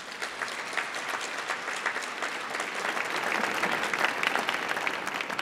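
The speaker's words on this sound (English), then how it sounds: "I'd like to have a round of applause for her service to our country." Audience at a Kennedy Center Millennium Stage event applauds; dense, sustained clapping from a crowd, swelling slightly toward the end and continuing throughout.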